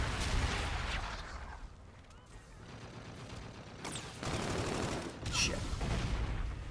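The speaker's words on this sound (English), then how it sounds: "Enemy bombardment incoming." Enemy artillery bombardment in a first-person shooter game, rumbling explosions and gunfire bursts rolling loud and continuous, with a player's brief exclamation over it.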